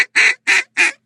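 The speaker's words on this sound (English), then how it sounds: "just try and sound a little more like a duck." A hand-blown duck call gives three sharp, evenly spaced quacks, loud and close, alone with no voices around them.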